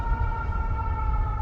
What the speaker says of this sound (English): And I'm hearing sirens.